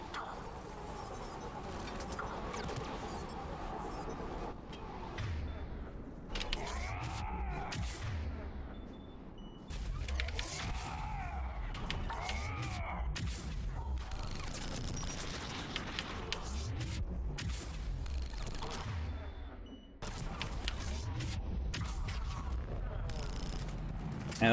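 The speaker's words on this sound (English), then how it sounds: "Those biotic explosions wreck armor" Biotic explosions and gunfire in Mass Effect 3 with mods: dense, continuous volleys of booming blasts and rapid shots, loud and close throughout, with brief lulls and sharper bursts layered on top.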